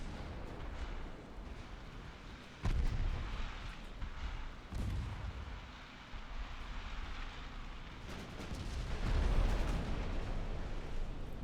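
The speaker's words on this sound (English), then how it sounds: "And you're firing 9-inch shells at, well, point blank range, really." Nine-inch naval guns fire shells at point-blank range in the Ultimate Admiral Dreadnoughts naval warfare game. Loud booming blasts arrive one after another over a constant roar of battle, with a heavy barrage swelling near the end.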